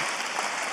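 An audience gives a brief burst of dense, even applause in a hall to welcome a guest speaker.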